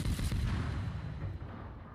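A naval shell hit in World of Warships during a Kidd tier 8 American destroyer battle, a loud muffled blast with rumbling booms that decays into a fading roar.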